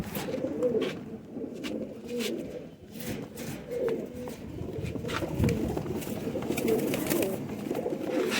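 Pigeons coo repeatedly in soft, throaty rolling calls, close by, with a faint hiss of background noise and occasional rustles.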